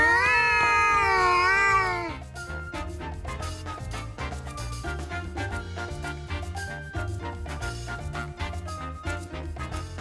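A cat lets out a loud, drawn-out wavering caterwaul for about two seconds, then busy rhythmic music with beats takes over for the rest.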